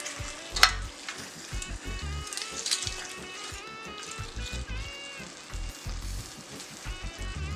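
Food sizzles and fries in a pan with bay leaf and thyme added, stirred by hand, with a steady hiss and scattered clinks and scrapes, including one sharp knock near the start.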